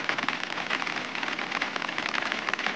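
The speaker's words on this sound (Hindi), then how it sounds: "अब बारिश स्टार्ट है।" Steady rain pattering down in the Uttarakhand hills during the monsoon season, a dense, even hiss of drops striking surfaces nearby, continuous and unbroken with no voices.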